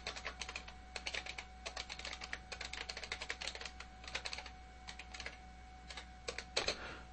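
Keys on a computer keyboard tapped in quick bursts while a web address is entered, a steady clatter of close, crisp clicks with short pauses between groups and one slightly louder tap near the end, with no voices.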